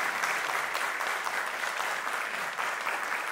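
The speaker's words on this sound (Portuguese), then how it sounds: "salva de palmas para os nossos astros." Audience applause at a stage hypnosis show, a dense, steady round of clapping from a crowd that fills the whole stretch without pause.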